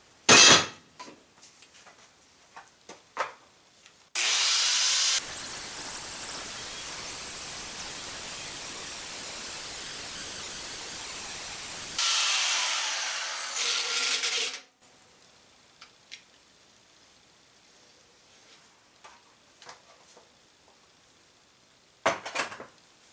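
A grinder or cutting wheel grinds rivets out of a steel park brake bracket in a shop, working on a 1955–59 Chevy/GMC 4x4 transfer case mount; two sustained loud hissing grinding passes of several seconds each, with clinks and handling noises around them.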